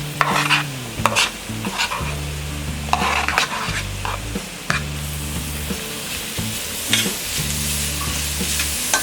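Grated carrot and softened onion sizzle loudly in a hot pan, with repeated rhythmic stirring scrapes of a spatula against the metal throughout and no talking.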